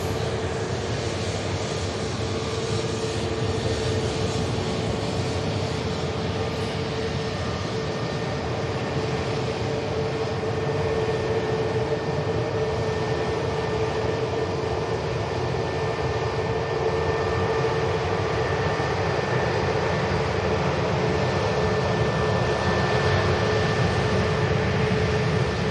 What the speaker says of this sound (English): Beautiful blue ITA heads out to Milan Linate on the return leg on behalf of EasyJet.